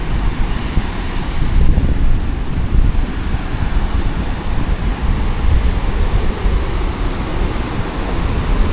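Surf rolls onto the narrow beach at Vung Tau at high tide, a loud continuous wash of waves mixed with heavy wind buffeting the microphone, with no voices.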